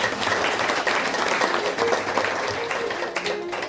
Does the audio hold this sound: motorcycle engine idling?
no